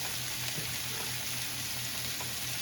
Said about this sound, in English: while this is sauteing and browning and getting soft and doing what it do